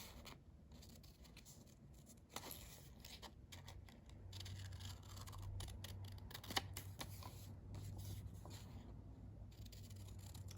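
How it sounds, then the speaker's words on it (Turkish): Scissors cutting a paper template along marked red lines, soft close snips and paper rustle repeating irregularly against a faint low hum, quiet and without speech. "Sadece kırmızı çizgileri takip ederek kesim işlemimi gerçekleştiriyorum."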